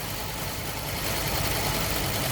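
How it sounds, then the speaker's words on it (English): A Ford Mondeo ST 2.5 engine with an overheating fault idles steadily, giving a close, continuous rumble with even vibration and no voices over it. "Now the engine is running."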